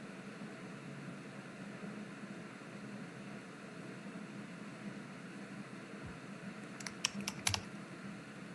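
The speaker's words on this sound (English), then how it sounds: "See some people still typing." Quiet steady room hum carries a short flurry of keyboard keystrokes near the end, a few sharp clicks bunched together as people type answers during an online climate assembly session.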